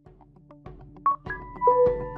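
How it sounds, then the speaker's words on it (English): An iPhone 7 connecting to a charger gives a short electronic chime of a few clear tones that ring out in quick succession after a near-silent start, with no voices. "That's the sound of your phone connecting to a charger."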